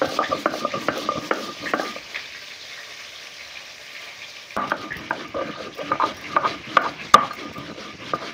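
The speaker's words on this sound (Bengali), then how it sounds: "দুবার ধরে পটলগুলো ভাজতে থাকবো" Pointed gourd (potol) pieces frying in a pan, heard as a crackling sizzle with stirring and scraping that fades and quiets midway, then returns busier with clinks of a utensil on the pan.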